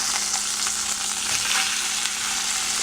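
Oxtail pieces searing in a hot pot give a steady, close, loud sizzle and crackle with faint stirring, no voices.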